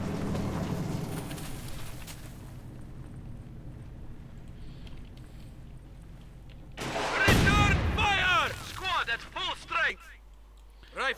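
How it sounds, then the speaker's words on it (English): A Panzer IV tank fires in the Company of Heroes 2 battle game, with a sharp, loud cannon blast near the middle. Rumbling battlefield noise runs beneath it, and chirping bird-like effects follow the shot. "Panzer IV firing away."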